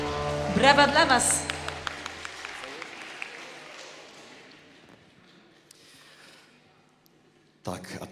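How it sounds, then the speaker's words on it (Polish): Audience clapping and cheering at a Lent retreat concert for children and youth in Gruczno, a loud burst early on that thins into scattered claps and fades, then a short noisy burst near the end. "Brawa dla Was!"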